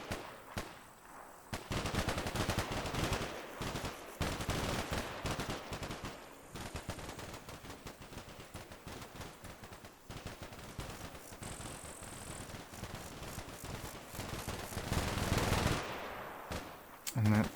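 Sustained gunfire from a firefight in the video game Combat Mission, with dense machine-gun bursts and rifle shots rattling continuously at a fairly faint level.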